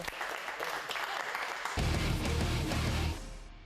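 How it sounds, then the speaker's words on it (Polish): Applause from a crowd at an MMA training show, building and growing denser and louder in the second half before tapering off at the end. "Wielkie brawa."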